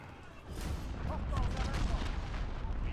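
Rapid bursts of gunfire and explosive booms in Call of Duty: Modern Warfare Ground War 32 vs 32, loud and continuous, with a voice talking over the action.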